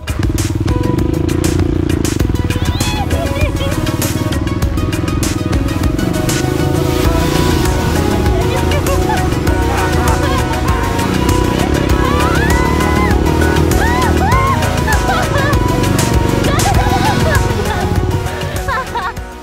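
Trail motorcycles run around the slopes of Merapi, a steady engine drone under loud crowd babble and people talking nearby, with clattering and occasional revving.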